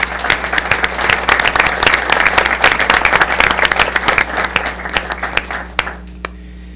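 An audience at a commission meeting breaks into loud, dense applause, many hands clapping rapidly and continuously for several seconds before thinning out to a few last claps under a steady room hum.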